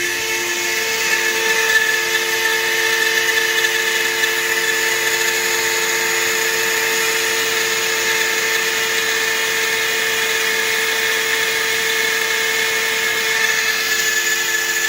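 Machine cutting apart a 1957 Ford F100 runs continuously, a steady high-pitched whining hum with little variation, moderately loud, without talk.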